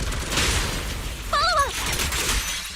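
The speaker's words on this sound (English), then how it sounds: "Unleashing artillery barrage." In Zenless Zone Zero, an artillery barrage lands as loud, rumbling bursts of explosive noise, with a short chirping tone rising out of the middle of the volley.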